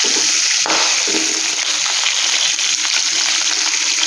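Chicken pieces fry in a kadai, turned over and golden, for chicken mandi; a loud, even sizzle and hiss runs throughout, with a brief clatter near the start.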